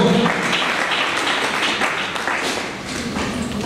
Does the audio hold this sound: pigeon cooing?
no